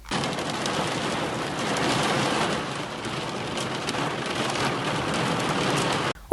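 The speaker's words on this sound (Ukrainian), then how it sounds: "На заході України влупив дощ із градом." Heavy rain with hail pounds down during a storm in western Ukraine as a dense, loud, unbroken roar of drops that holds steady throughout and cuts off abruptly at the end.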